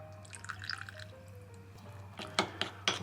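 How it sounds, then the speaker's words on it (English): Japanese sake trickles into firm spicy miso, giving a few soft drips and small splashes with a faint liquid gurgle. A short, quiet burst of wet spattering follows near the end. "This time I will add Japanese sake."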